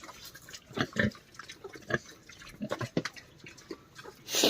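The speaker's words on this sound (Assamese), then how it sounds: "এইফালে গাহৰি 3টা আছে" Pigs kept in a pen in a Nagaland setting grunt and snuffle in short irregular bursts, close by, with some splashy wet noises mixed in.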